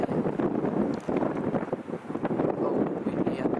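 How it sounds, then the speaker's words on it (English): Steady gusty wind roaring against the microphone on a cold, exposed high point in Great Britain, a continuous broadband rush with slight surges, loud and close throughout. "Cold windy up here."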